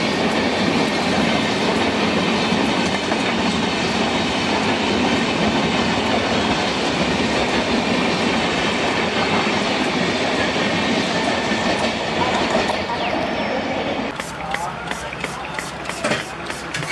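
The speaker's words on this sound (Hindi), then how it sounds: "ये जा रही है अपनी केरला एक्सप्रेस निज़ामुद्दीन को स्किप करते हुए।" The Kerala Express passes close by, its wheels rumbling and clattering loudly and continuously over the rails before the noise drops off sharply near the end.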